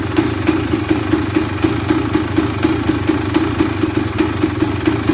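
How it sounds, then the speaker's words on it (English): A KTM 300 XCW two-stroke dirt bike idles just after a cold start without choke, a loud, close, evenly pulsing rattle with a quick regular beat. "So that's a cold start, no choke, one-handed"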